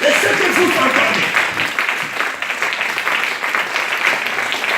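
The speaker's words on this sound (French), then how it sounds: "Acclamons le Seigneur Jésus" A church congregation applauds and cheers steadily for Jesus, a dense wash of clapping with voices mixed into the crowd noise throughout.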